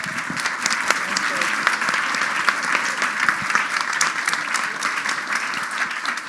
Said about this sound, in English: Let's give one more round of applause to our esteemed panelists